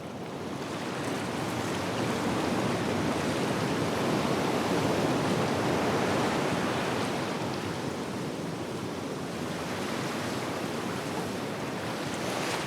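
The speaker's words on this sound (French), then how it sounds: "Nourri par les vagues de l'océan qui déferlent et passent au-dessus du récif" Ocean waves break and wash over a coral reef flat in Bora Bora, a broad, continuous roar of surf swelling slightly midway, steady and fairly loud with wind-like hiss and no voices.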